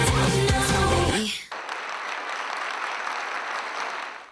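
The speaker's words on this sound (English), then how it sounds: "A big round of applause." Audience applause at a school annual day celebration following a dance performance, starting abruptly as loud music ends and continuing as steady, dense clapping from a crowd.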